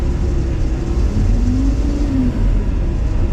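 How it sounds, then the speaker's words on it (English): A wooden boat's engine idles with a steady low rumble close by after starting, a faint rising whine briefly riding on top before settling back to an even drone. "let's spark her up"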